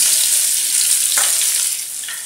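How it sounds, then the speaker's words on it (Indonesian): Flour-coated chicken pieces frying in hot oil for pandan coconut rice, a steady loud broadband sizzle throughout with a brief crackle burst near the middle, no voices. "Dan kita masukkan kita punya ayam yang telah kita salutkan dengan tepung."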